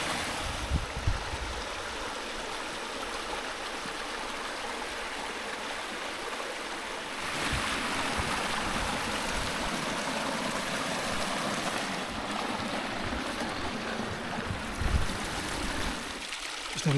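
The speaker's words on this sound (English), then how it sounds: "Just on the top of the water, the stream here." A mountain stream in the Scottish hills flows steadily, a loud, continuous broadband rush of water that swells slightly about halfway through and carries on without pause outdoors.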